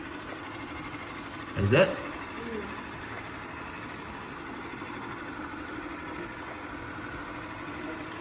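A Shark Matrix AV2310AE robot vacuum runs with a steady motor whir while it works in a tight spot under a couch. A brief spoken remark and a short bump of noise come through over it.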